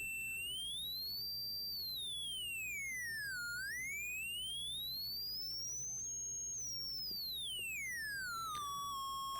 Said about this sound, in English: if I move the frequency, I think you'll really hear it